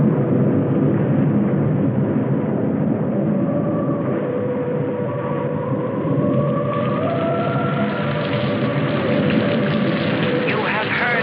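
Heavy rain in the 1965 sci-fi film Voyage to the Prehistoric Planet pours in a steady, dense, muffled roar throughout, with a faint rising tone drifting in midway.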